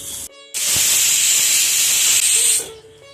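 A pressure cooker cooking beef with jackfruit lets out a loud, sustained burst of steam hiss for about two seconds, then fades back to quieter kitchen sound.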